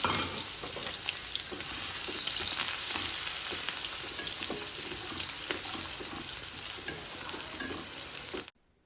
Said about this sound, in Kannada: ಈಗ ನಾನು ಪ್ಯಾನ್ಗೆ ಒಂದು ಎರಡರಿಂದ ಮೂರು ಸ್ಪೂನ್ ಆಗೋಷ್ಟು ಆಯಿಲನ್ನು ಹಾಕ್ಕೊತಾ ಇದ್ದೀನಿ ಆನಿಯನ್ ಏನಿದೆ ಅಲ್ಲ ಸೊ ಆನಿಯನ್ ಹಾಕ್ಕೊತಾ ಇದ್ದೀನಿ